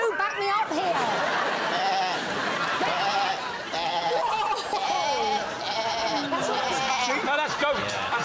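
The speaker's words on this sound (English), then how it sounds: "No, that's goat. That's a goat." A goat bleats repeatedly among a noisy studio audience, its wavering cries rising and falling over steady crowd chatter and laughter from people talking.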